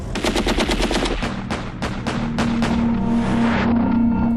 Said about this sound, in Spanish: El israelí alcanza su Kalashnikov. La ametralladora no tiene silenciador.